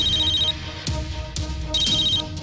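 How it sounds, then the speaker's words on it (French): A phone ringtone sounds for an incoming call, a steady repeating electronic tone in short bursts alongside background music and soft thuds. "En ce moment même, Pourab reçoit un appel"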